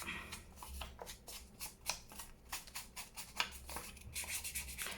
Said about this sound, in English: ink around this